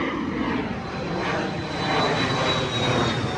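A propeller airplane flies overhead above a yard, a continuous droning engine roar that swells slightly toward the end, heard alone without talk.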